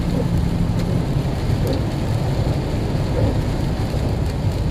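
Steady heavy rain pours down during a thunderstorm, a dense continuous hiss with faint low rumbling beneath, heard from inside a Prime Inc truck on the road.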